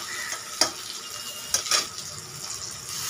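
Tomatoes, small fish and crushed garlic fry in a pan with a continuous sizzle, punctuated by a few brief scrapes and clinks as the mixture is stirred.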